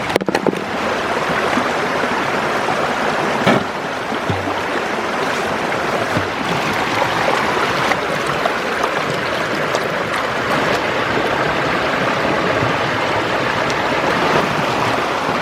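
Rushing stream water at the base of a small waterfall, a steady, loud broadband wash that runs continuously without pause.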